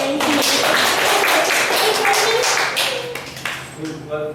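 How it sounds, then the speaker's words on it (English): An audience at an English club speech meeting breaks into dense, continuous clapping that thins out toward the end, with voices talking over it. "Applause for everyone, not just to me, but to everyone here"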